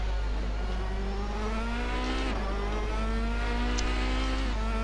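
Race car engine at high revs dropping in pitch as the driver brakes early before a corner, a continuous loud engine drone with downshift dips, no talk.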